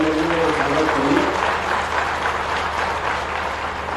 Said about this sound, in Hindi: ऐसे डॉक्टर मोहन यादव जी के जरा तालियों के साथ में स्वागत करिए